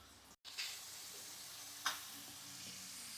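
Chicken wings hitting a hot frying pan give a steady close sizzle with a brief sharp crackle partway through, heard alone with no talk.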